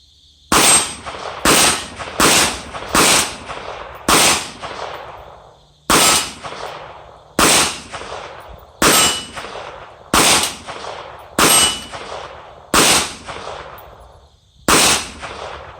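Kel-Tec PMR-30 pistol, 2018 model, firing round-nose rounds at steel targets: about a dozen sharp, loud shots at a steady, slightly uneven pace, each followed by a ringing metallic clang and a short decay.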